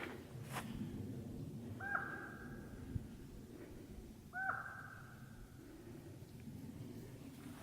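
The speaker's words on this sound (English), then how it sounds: "Got a bird calling here." A bird calls twice on a forested stretch of the Arizona Trail in the evening, giving two clear, falling tonal notes a few seconds apart over a steady hiss of background noise.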